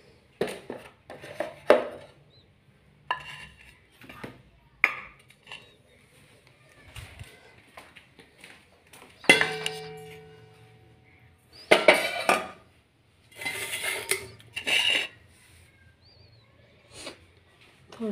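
Dishes being washed by hand in a home kitchen, with scattered clinks of metal pots, plates and cutlery in irregular bursts, some loud and close, others faint, over a quiet background.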